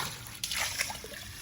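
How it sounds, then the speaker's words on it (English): Water poured out while collecting a sample from a spot-free car-wash filter system switched to bypass, a brief splashing trickle starting partway through at moderate, close range with no talk. "Let's get a little bit of a water sample here."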